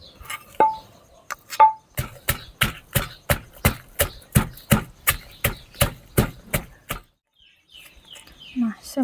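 Sharp knife chopping ingredients for a Lao-style cucumber salad, a fast even run of about fifteen crisp knocks on a board, close and clear, with a few birds chirping faintly and brief talk.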